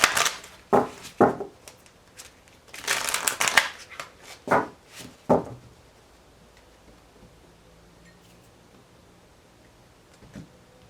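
Several bursts of tarot cards being shuffled, crisp riffling rustles in quick succession, then quiet with faint room noise.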